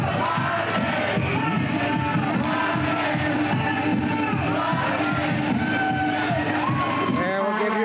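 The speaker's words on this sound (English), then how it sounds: "the fans in the stands who are cheering their team on" Hockey fans in the stands of the North Dundas Rockets home rink cheer their team on, a steady wash of crowd noise with shouts and whoops under commentary.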